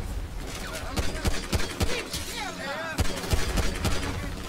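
Rapid bursts of gunfire in Grand Theft Auto 5, loud repeated shots and volleys in uneven clusters, with a voice talking underneath.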